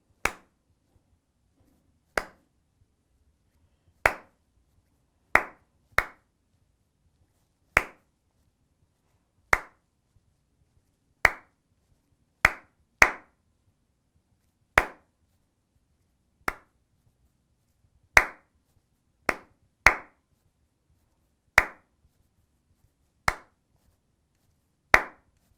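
Single hand claps in an irregular rhythm, following a saxophone exercise from a beginner method book, sharp and isolated with silence between them, close and moderately loud.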